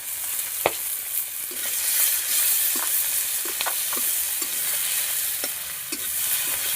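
Fish frying with chopped onion and green chilli, a loud continuous sizzle close by with repeated short scraping stirs of a spatula throughout.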